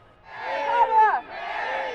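Crowd of Kamala Harris supporters in Milwaukee: a single prolonged chanting or cheering shout from many voices, rising and falling over two seconds, fairly close.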